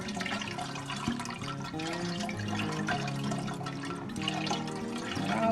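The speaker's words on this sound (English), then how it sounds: "Now I'm going to add water." Water pours onto ground corn in a bowl while making Nigerian akamu paste, a steady gushing, splashing stream, close and continuous, with no talking.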